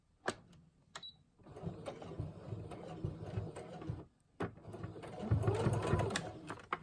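A sewing machine stitching fabric for tag pockets runs in close, steady mechanical bursts, stopping briefly between runs, with faint speech in places.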